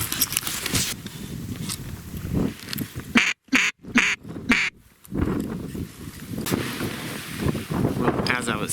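Mallard ducks quack repeatedly near a canoe blind on the water during a duck hunt, loud bursts over gusting wind noise on the microphone, with someone speaking at moments.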